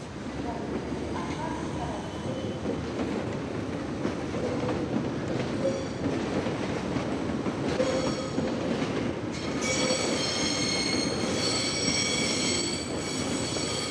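A train rumbles and clatters past a station platform, with wheels squealing in high tones during the latter part, loud and continuous throughout.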